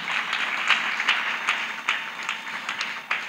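A church congregation claps together in a steady, moderately loud round of applause, with rhythmic hand claps that rise and fall.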